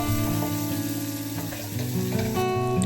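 Potatoes frying in butter with garlic and curry leaves, a dense steady sizzle filling the whole stretch with faint stirring movement underneath, close and loud, no voices.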